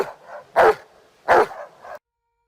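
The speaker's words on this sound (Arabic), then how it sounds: "هكلمكم عن الكلب هالك، الوحش المدمر وأضخم كلب بيتبول في العالم" A very large pit bull dog barks twice, loud and close, each deep bark followed by softer huffing before it falls silent.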